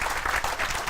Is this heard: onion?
no